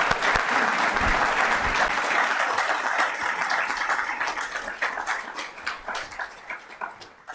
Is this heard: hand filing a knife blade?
no